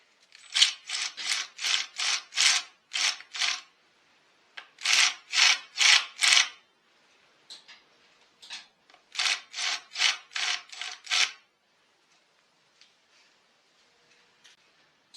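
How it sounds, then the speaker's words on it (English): Repeated rasping file strokes on a carburetor part of a Husqvarna 1100 hybrid chainsaw as a small chamfer is cut, in three close bursts of about five strokes each, then a few soft taps and near silence. "I'll just put a little chamfer on the edge"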